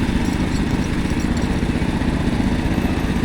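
An antique hydrostatic garden tractor engine runs at an agricultural fair, a steady mid-pitched chugging drone at moderate distance with no voices.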